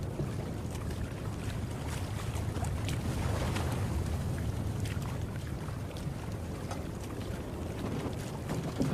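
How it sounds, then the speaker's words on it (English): Waves breaking on a shore, heard from a sailing ship at sea, form a steady broadband wash with some wind noise, continuous and fairly loud throughout, with no voices. "You hear waves, sir. Waves breaking up on the shore."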